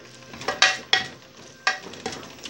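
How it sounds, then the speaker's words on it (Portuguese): Ground beef sautés with garlic, salt and bouillon seasoning in a pan, a soft sizzle under several sharp spoon-against-pan scrapes and knocks spaced irregularly, close by. "Eu vou deixar ela refogar um pouquinho, só para ela pegar o gosto do tempero."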